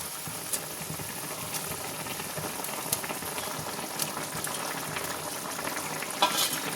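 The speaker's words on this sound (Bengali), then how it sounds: "দেখুন আমার গ্রেভিটা ফুটে উঠেছে" Gravy for green-banana koftas bubbling steadily in a pan as fried koftas are slipped in, a soft continuous boil and sizzle with small clicks and stirring knocks, no talking.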